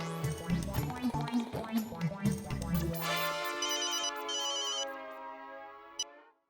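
A phone ringtone plays as a bright melodic tune. A rhythmic run of notes gives way to a sustained ringing chime that stops abruptly, then a short click follows.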